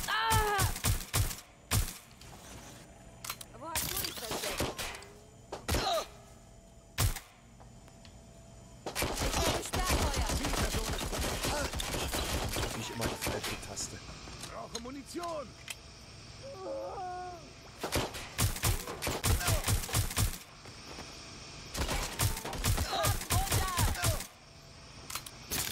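Rapid bursts of gunfire in Watch Dogs: Legion on Xbox Series X crackle in clusters, loud and sharp, with brief gaps between volleys and faint talk underneath.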